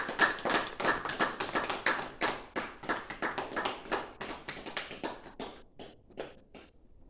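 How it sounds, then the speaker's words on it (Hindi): An audience claps to welcome the brothers, a run of sharp, dense handclaps that thins to a few scattered claps near the end, fairly close with no voices. "ताली बजा के स्वागत करो भाइयों को"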